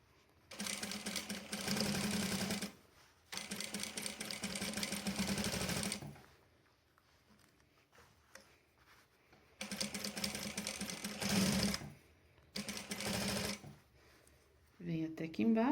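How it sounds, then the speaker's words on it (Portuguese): Sewing machine stitching a skirt seam runs in four loud steady bursts separated by quiet pauses, close by, with a brief reverse stitch at the end. "E só dar sequência na costura."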